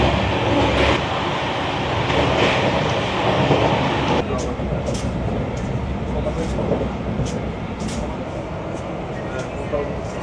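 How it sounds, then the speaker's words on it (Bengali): The Malda Town–Howrah Intercity Express runs past with a dense, continuous roar and rumble of rolling coaches, steady and loud throughout with sharp clicks toward the end. "এটা হচ্ছে Malda town Howrah intercity express"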